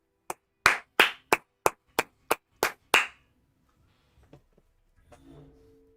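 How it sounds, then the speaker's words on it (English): About nine sharp, loud, separate claps in a steady rhythm, each ringing briefly in a room during a card game broadcast, followed by faint scattered handling noises. "Show us how loud you can clap."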